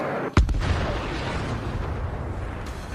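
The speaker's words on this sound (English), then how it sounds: "Just look at how this powerful artillery unit destroys Ukrainian trenches" Artillery fire striking Ukrainian trenches: one sharp, loud blast near the start, then a long rumbling low-frequency roar that holds steady through the rest.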